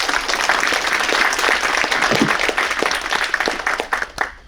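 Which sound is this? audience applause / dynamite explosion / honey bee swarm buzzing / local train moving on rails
audience applause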